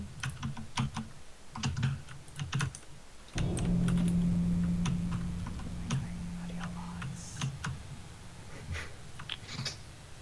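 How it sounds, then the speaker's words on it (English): Rapid clicking keystrokes on a computer keyboard, in bursts with short pauses, close and fairly quiet, with a low tonal hum for a few seconds in the middle. "your keyboard is super loud"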